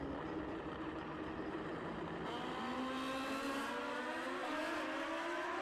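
1978 Kawasaki drag racing motorcycle at a drag strip, a loud continuous engine roar with rising pitch as it revs and accelerates away, alone without voices.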